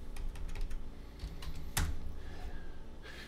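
Someone types a short command on a computer keyboard, a quick run of close, quiet key clicks with one sharper press near the middle.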